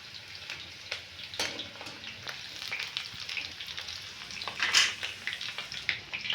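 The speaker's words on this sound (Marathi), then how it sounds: "त्याला पण बारीक कट करून पूर्ण गोल्डन ब्राऊन होईपर्यंत मी तळून घेणार आहे" Finely chopped onion frying in oil in a pan until golden brown, a steady close sizzle with scattered crackles and a brief louder burst near the end, no talking.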